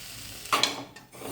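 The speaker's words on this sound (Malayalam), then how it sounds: "അടിക്ക് പറ്റാതെയും കരിയാതെയും നന്നായിട്ട് വറുത്തെടുക്കണം" Grated coconut, dried red chillies and black peppercorns being dry-roasted and stirred in a pan give a short scraping, rustling stir with a faint sizzle, close and fairly quiet.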